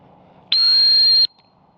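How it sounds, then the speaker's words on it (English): A single sharp, loud dog training whistle blast, steady and piercing, sounds alone during a retriever handling drill, standing out clearly over quiet outdoor background. "Double tap again, pressure on the second whistle."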